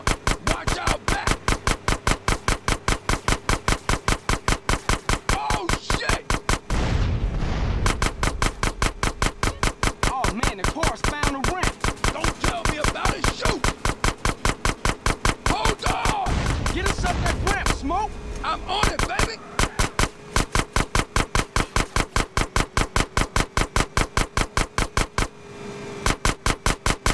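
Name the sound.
gunfire in video game GTA San Andreas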